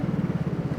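Exhaust of a Scomadi scooter running close by, a brief steady low throb with a fast, even pulsing rhythm, fairly loud and with no voices.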